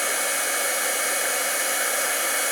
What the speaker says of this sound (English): I know you can hear my dryer.